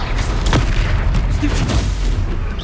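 A loud booming spell blast from the Hogwarts Legacy game, an Expelliarmus cast in combat, with a couple of sharp percussive hits over a dense rumbling battle bed.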